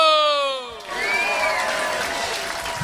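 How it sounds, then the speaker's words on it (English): At the Comedy Store in London, a comedy club crowd breaks into loud applause with cheers and whoops right after a voice stops. The clapping and shouting carry on densely to the end. "please give a huge round of applause and welcome"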